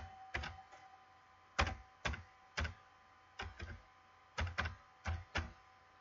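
Keys tapped on a computer keyboard while a UPI number is entered for an online payment, sounding as short irregular clusters of close clicks with quiet gaps between.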